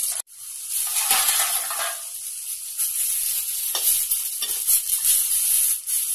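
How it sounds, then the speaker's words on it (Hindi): Tomatoes frying in a pan give off a continuous close sizzle and hiss with faint crackles and stirring scrapes, steady and moderately loud, no voices. "देखिए दोस्तों, टमाटर भी अच्छे से फ्राई हो चुका है।"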